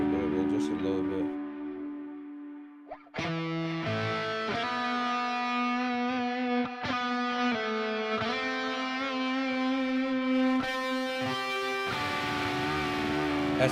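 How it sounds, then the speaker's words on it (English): A heavily distorted, saturated tone with thick buzzing harmonics sustains for several seconds, breaking briefly before returning at the same gritty level. "Let's crank up the distortion for the saturation."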